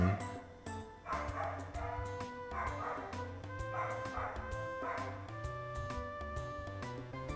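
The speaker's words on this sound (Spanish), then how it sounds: "el perro de afuera está emocionado por todo él también, porque está ladre y ladre." An excited dog outside yips and barks in short bursts behind game music, the calls faint and distant, repeating at uneven intervals.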